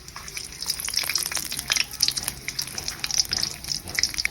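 Bay leaf, dried chili and cinnamon sizzling in hot oil in a wok, a steady close crackle with dense spitting pops.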